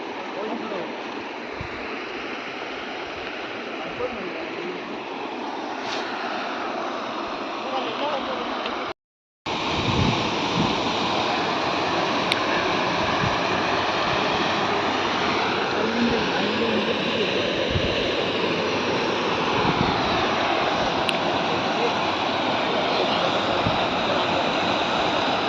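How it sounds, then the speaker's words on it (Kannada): A small waterfall roars as a steady, full rush of flowing water close by, breaking off for a moment before resuming just as strongly, with a voice briefly heard over it. "ನೀರು ಸೌಂಡ್ ಕೇಳೋಕ್ಕೆ ಒಂದು ಚಂದ."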